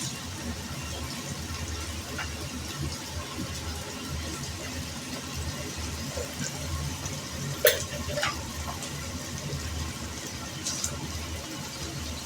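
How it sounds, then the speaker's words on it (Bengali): Sliced onion and chopped garlic frying in hot mustard oil mixed with ghee give a steady, low sizzling hiss throughout, with a few faint clinks. "সর্ষের তেল গরম হয়ে গেছিলো, তার সাথে আমি একটু ঘি মিশিয়ে ছেড়ে দিলাম পেঁয়াজ,"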